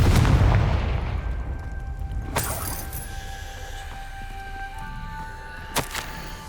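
Spell explosions from Confringo casts in the video game Hogwarts Legacy: a booming blast that rumbles and fades, followed by a couple of sharp bursts over steady game ambience, with no talk.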